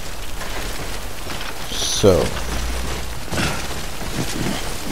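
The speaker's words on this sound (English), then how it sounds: "Don't stay out in the rain any longer than you have to." Steady hiss of timefall rain pouring down in the video game Death Stranding, a continuous wash of falling drops with a brief heavier burst, while someone talks over it.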